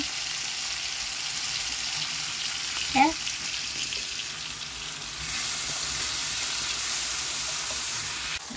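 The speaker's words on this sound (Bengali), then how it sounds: "একটু মশলাটা ভালো করে কষিয়ে নিচ্ছি, তেলটা উপরে উঠে গেছে।" Spice masala fries steadily in oil in a pan, a soft continuous sizzle with a brief clatter of stirring near the middle and the hiss growing a little brighter toward the end.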